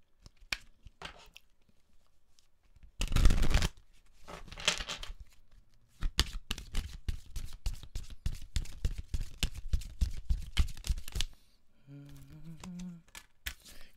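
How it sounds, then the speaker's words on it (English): Oracle and tarot cards are shuffled in quick bursts of papery riffling and soft slapping. The sounds stop and start at close range, with a few quiet words spoken between them. "I'm going to pull you some oracle cards."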